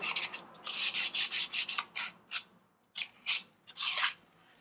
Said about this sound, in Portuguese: Lixar dentro é um pouco chatinho, mas tem que ser lixado.